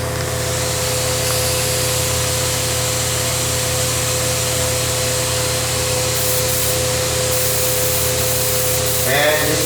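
A spray gun lays metalizer onto a radiator in passes, a loud, continuous hiss with a steady compressor-like hum beneath it that runs unbroken to the end.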